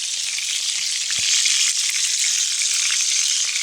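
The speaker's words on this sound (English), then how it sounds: "I'm searing it very quickly now, as you can see" A tomahawk ribeye steak sears on a hot grill with a loud, continuous hiss and crackle of sizzling fat, steady throughout with one small pop partway through and no voices.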